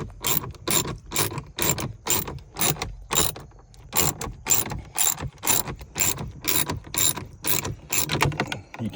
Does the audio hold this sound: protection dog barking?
no